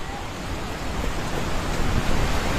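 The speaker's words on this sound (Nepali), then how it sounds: "खोला हेर्नु गाइस खोला" A Nepali river rushes steadily in a dense, unbroken roar that swells slightly toward the end, close and loud with no voices.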